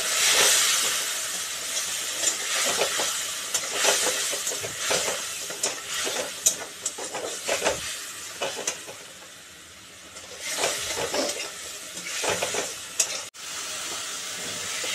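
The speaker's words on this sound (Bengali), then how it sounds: "দিয়ে অল্প একটু জল দিলাম মশলাটা কষানোর জন্য" A spice paste of cumin powder, chili powder and a little water fries in a pan for a fish curry, giving a steady sizzling hiss broken by repeated scraping stirs. No talking.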